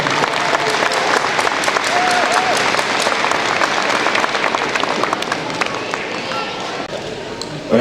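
Audience applause at the opening of a paper hockey tournament, a dense wash of many hands clapping steadily throughout, loud and close, with no talk over it.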